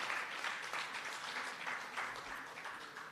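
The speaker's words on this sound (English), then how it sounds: "Please give her a round of applause" Audience applause at the launch of Senior Citizens Week by the National Council for Senior Citizens, a steady wash of clapping from a seated crowd that holds at an even level for a few seconds with no voices over it.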